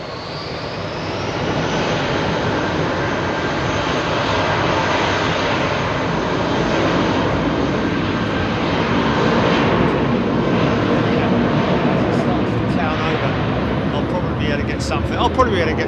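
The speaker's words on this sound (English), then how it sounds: "Dreamliner coming out, or has he just come in?" A Boeing 787 Dreamliner jet at Heathrow Airport roars steadily and loudly throughout, a broad continuous engine rumble that swells slightly midway; faint voices occur near the end.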